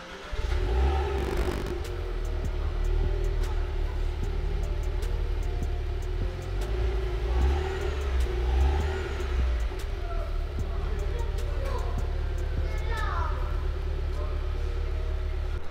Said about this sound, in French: si jamais on la démarre, on sait que le son est pas mal